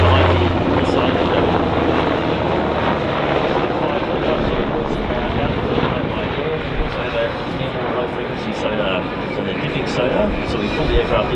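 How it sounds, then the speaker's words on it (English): A Royal Australian Navy MH-60R Seahawk helicopter flies a display at an air show. Its loud, steady rotor and turbine roar fills the whole stretch, with voices faintly audible beneath it. "So we pull the aircraft into a hover and then reel it out"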